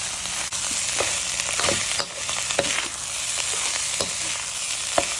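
Rice is stir-fried and tossed in a hot pan, a steady sizzle broken by repeated scraping knocks of a spatula as it is mixed, close and without speech.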